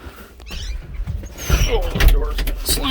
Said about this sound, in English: the door's gonna slam